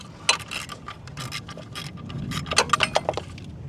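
A 10mm socket dropped during Ford Focus horn repair, bouncing with a quick series of sharp metallic clinks, close and light, scattered over a few seconds.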